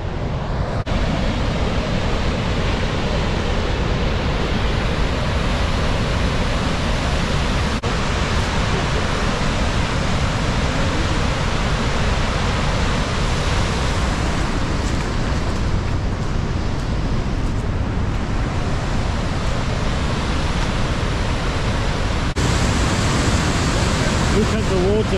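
Gullfoss waterfall in Iceland roars close by, a dense, constant rush of falling water with wind buffeting the microphone, and a person speaks over it.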